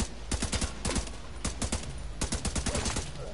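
Gunshots from The Division 2 ring out as a rapid series of sharp cracks in several bursts, loud and close with short gaps between volleys.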